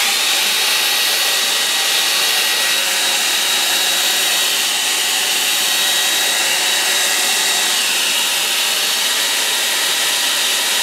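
A hair dryer blows steadily at close range to dry acrylic paint, a constant loud whooshing roar with a thin high whine that does not change for the whole stretch.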